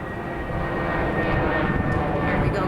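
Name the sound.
airplane flying overhead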